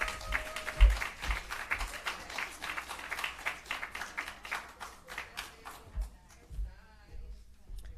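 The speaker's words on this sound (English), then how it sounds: "Clap her, no man." An audience at a civil service public forum claps for the host, a burst of lively, uneven applause that tapers into scattered claps and fades near the end.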